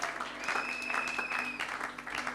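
A church congregation at a Sunday service applauds and cheers for Jesus, a steady, moderately quiet wash of clapping with some voices rising through it, lasting a couple of seconds.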